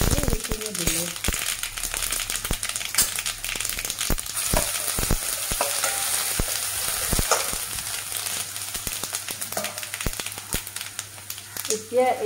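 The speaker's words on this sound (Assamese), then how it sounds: "জালুক পাঁচফোৰণ সৰিয়হ এইখিনি তেলত ফুটাই দিম লগত এই আদা নহৰু পিচি লৈছিলোঁ সেইখিনি দিলোঁ" Black pepper, panch phoron spice mix, mustard seeds and ground ginger-garlic paste crackling and sizzling in hot oil, a dense continuous frying noise with sharp pops throughout and a voice faintly underneath.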